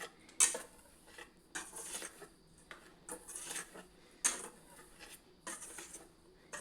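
A spoon scrapes and clinks against a bowl while dry semolina is mixed, making irregular, fairly quiet scraping strokes roughly every half second to second, with no talking.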